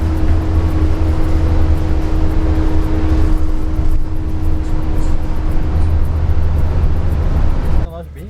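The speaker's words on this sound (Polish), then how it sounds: "jedziemy darmowym autobusem wzdłuż krawędzi kanionu" A free shuttle bus travels along the Grand Canyon rim, its engine a loud, steady interior drone with road rumble that cuts off sharply near the end.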